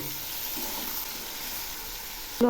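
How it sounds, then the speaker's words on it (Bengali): Chilli powder and coriander powder fry in oil for a fish curry, giving a steady, even sizzle throughout that ends with a quick utensil clink. "এখন আমি মশলাগুলো খুব ভালো করে কষিয়ে নেব"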